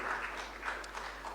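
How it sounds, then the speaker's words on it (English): Faint, distant clapping from an awards night audience, a quiet patter of hands that stays low and even for a moment. "Give them a round of applause."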